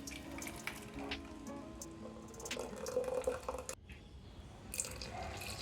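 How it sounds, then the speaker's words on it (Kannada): Water splashes and trickles as rinse water is poured out of a mixer jar and drips, fairly quiet with no one speaking. "ಮಿಕ್ಸಿ ತೊಳೆದ ನೀರು ಹಾಕಬಹುದು"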